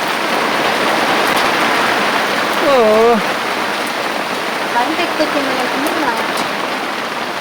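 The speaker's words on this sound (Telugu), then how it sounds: "స్టార్ట్ అయింది వాన." Sudden heavy night rain falls in a constant loud wash of noise, with a brief voice cutting in midway and again near the end.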